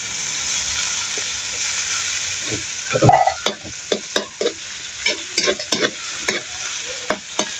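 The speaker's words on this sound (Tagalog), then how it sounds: "Lagay ang ating giniling na karne." Ground corned beef fries in a pan with a low crackling sizzle, broken by sharp clacks and scrapes of a utensil stirring against the pan in quick bursts.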